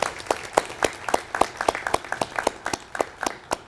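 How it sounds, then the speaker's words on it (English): Scattered hand claps at a university commencement ceremony, fairly sparse and rhythmic, as from a modest group rather than a full roaring crowd. "Let's give him a round of applause."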